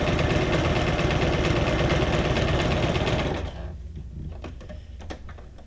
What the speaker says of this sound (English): I think I enjoy the sewing machine more than I would enjoy doing the hand stitching.